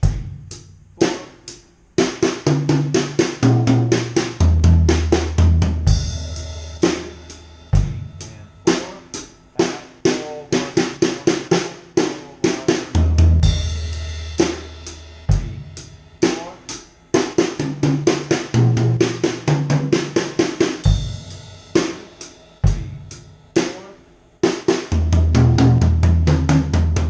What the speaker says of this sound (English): You can also use your double stroke rolls or your double stroke rudiment to do